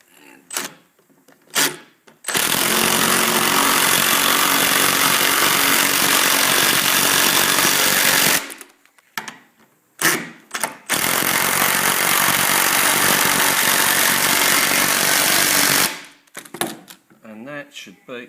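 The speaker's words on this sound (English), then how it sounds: "to finish it off we need to just assemble the rest of the screws underneath, all 16, so we just take our drill" A power drill driving screws into the underside of wooden bench legs, two long sustained whirring runs of several seconds each, loud and close, separated by short bursts and clicks of handling.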